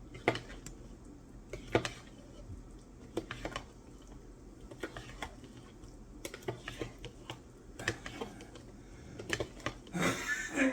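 Casserole mixture stirred in a bowl, giving soft scattered clicks and scrapes of a utensil at irregular intervals over a quiet room background, with no talking.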